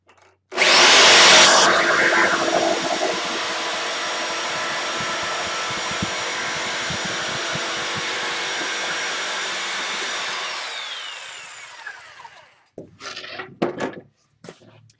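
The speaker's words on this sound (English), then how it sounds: "let's check out the jigsaw in action now. I want to round off the corner of this plywood" A jigsaw rounds off the corner of a plywood sheet with a loud, close buzzing roar that starts abruptly, runs steadily for about ten seconds, winds down, and is followed by a few short knocks and handling sounds.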